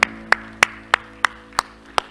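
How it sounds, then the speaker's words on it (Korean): Church congregation clapping in unison: seven sharp, evenly spaced claps roughly every third of a second, close and fairly loud, with no talking. "우리 하나님께 영광의 박수합시다"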